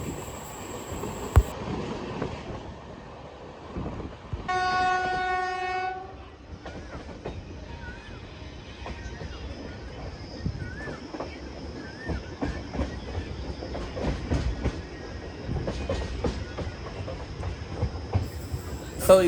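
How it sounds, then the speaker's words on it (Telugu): Dakshin Express (train 12721) crossing another train: a sustained horn blast sounds partway through, followed by a continuous heavy rumble and rhythmic wheel clatter as the trains roll past each other. "అది కూడా చెప్తుండగానే మనం ట్రైన్ని క్రాస్ చేసుకుంటూ వెళ్తున్నాము"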